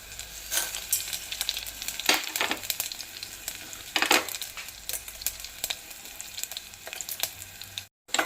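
Cumin, mustard seeds, chana dal and urad dal sizzle and crackle in hot oil as a tempering for Andhra-style palakura pappu, a steady close frying hiss with sharper popping bursts and no voices.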